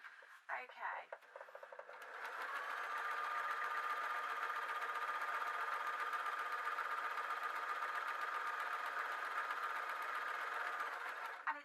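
A sewing machine stitches a cross-over blouse, starting after a brief rustle and then running at a steady, even whir that holds for about ten seconds, close and moderately quiet.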